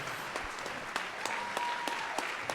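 Continuous crowd clapping at a town hall meeting, a thick, even wash of applause with a few sharper individual claps standing out, lasting the whole stretch without talk.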